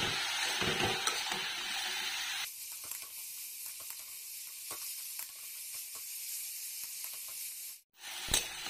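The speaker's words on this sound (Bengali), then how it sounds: "বাঁধাকপিটা আধা ভাজা হয়েই গেছে।" Cabbage frying in a pan with green chillies, salt and turmeric, giving a steady, close sizzle and hiss throughout, briefly louder at the start, with a few soft stirring clicks and a short break near the end.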